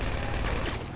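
Gunfire in the video game GTA V during a police shootout, a dense, loud burst of rapid shots and clatter filling the whole second without pause.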